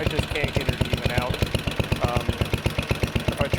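A 69-year-old Briggs & Stratton 23A-FB small engine idles close by with a fast, steady chugging beat and a faintly uneven rhythm, loud and alone throughout.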